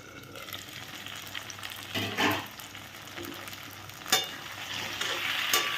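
Vegetables with potatoes and boiled greens frying in a pan, a close, soft continuous sizzle punctuated by a few louder scraping stirs.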